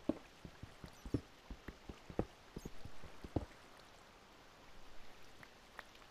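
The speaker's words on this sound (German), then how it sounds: "Fängt aber draußen richtig an zu regnen." Rain in the video game Minecraft, quiet irregular drip-like taps at first that thin out into a soft steady patter, faint and with no talk.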